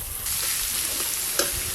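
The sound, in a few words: chopped onions frying in a pan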